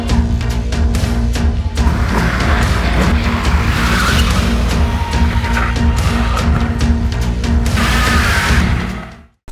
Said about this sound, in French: Vous avez écouté ce magnifique moteur électrique?